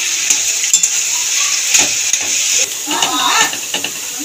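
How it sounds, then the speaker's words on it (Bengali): Banana stem with papaya and lentil dumplings is stir-fried in a pan, giving a continuous close sizzle broken by scraping stirs and clinks of a spatula. "নাড়াচাড়া দিয়ে ভেজে নেব।"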